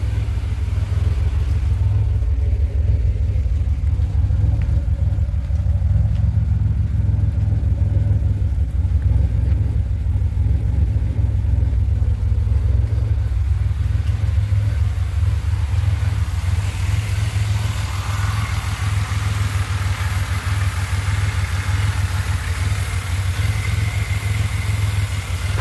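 A 2007 Pontiac Grand Prix GT engine fitted with an S1X cam runs steadily just after its first start, a loud, continuous low rumble with a lumpy idle that carries on without a break and with no talking.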